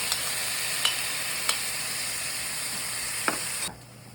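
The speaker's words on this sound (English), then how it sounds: "now we're gonna add 3 Roma tomato. It's been chopped up. And we're gonna cook this down." Chopped Roma tomatoes fry in a pan with a steady low sizzle, a few soft stirring clicks over it, before the sound cuts off near the end.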